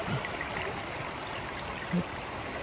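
Steady, close rush of a trout stream flowing over stones, a continuous broadband wash with a brief splash near the end and no talk.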